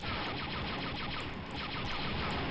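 Sustained automatic gunfire from Star Wars: Dark Forces, a dense, loud, unbroken burst of rapid shots filling the whole moment with no pauses.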